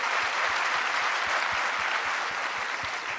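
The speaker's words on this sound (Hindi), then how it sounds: "ज़ोरदार तालियां बजाइए" An audience at a Karachi Arts Council literature and culture festival claps hard and steadily. The applause is dense, loud and unbroken throughout, with no voices on top.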